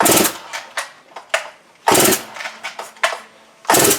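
Repeated pull-starting of a Huztl/Farmertec MS660 chainsaw with the choke on: a series of loud, short ratcheting rasps from the starter cord, spaced unevenly with pauses between pulls, close by, and no engine catching.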